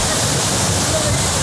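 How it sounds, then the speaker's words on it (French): A waterfall in Marrakech rushes loudly at close range, a dense, unbroken roar of falling water that swamps everything else, with voices mixed in. "voir cette fameuse cascade de plus près"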